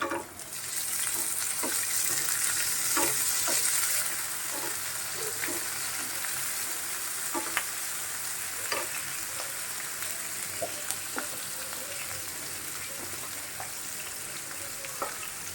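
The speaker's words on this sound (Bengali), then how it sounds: "এখন আমি চিংড়ি মাছ দিয়ে দিচ্ছি গুঁড়া চিংড়ি মাছ" Small ground shrimp fry with banana stem in a pan, a steady loud sizzle running throughout, broken by repeated light taps and scrapes as the mixture is stirred.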